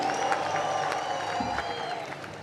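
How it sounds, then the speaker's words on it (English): Audience applause at a Catholic church plenary assembly, a steady wash of many hands clapping at moderate distance that holds evenly for the whole stretch with no voices on top. "Makofi kiasi jameni."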